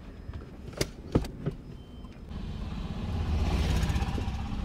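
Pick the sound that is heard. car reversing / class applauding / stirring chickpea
car reversing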